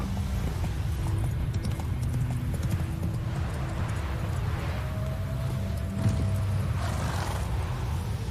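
Horse hooves pound at a steady gallop in The Witcher 3, a continuous loud drumming of hoofbeats over a low rumble, with a brief whinny-like tone near the end.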